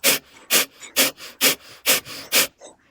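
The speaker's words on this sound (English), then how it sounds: "we will be exhaling really fast and with force." Breathwork with six short, forceful exhales through the nose or mouth in a steady quick rhythm, each a loud close breathy burst, followed by a softer final breath.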